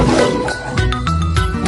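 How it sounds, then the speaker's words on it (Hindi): A lion lets out a loud, close roar that swells over a busy background of music and jingling effects in a cartoon animal story. "ये सुनते ही लायन जोर से दहाड़ा"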